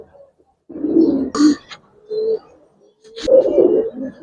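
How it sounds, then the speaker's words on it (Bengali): Giribaz and colouring pigeons at a pigeon farm coo up close in several throaty bursts, with short quiet gaps between the low rolling calls. "মাশাআল্লাহ কবুতরগুলা।"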